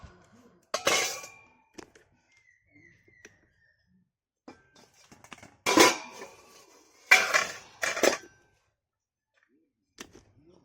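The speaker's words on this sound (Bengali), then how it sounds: "এটাকে ঢাকা দিয়ে দেব।" A metal lid clatters onto a cooking pot of taro leaves with small shrimp, giving several sharp clanks and rattles in a quiet kitchen, separated by short pauses and a few soft knocks.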